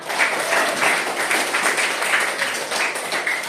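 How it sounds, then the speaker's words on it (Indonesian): Classroom applause for a student group presentation, a steady burst of many hands clapping together, fairly close and loud, with no talking over it. "Kita beri aplaus untuk kelompok Rehan."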